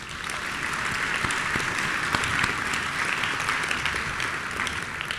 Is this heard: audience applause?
yes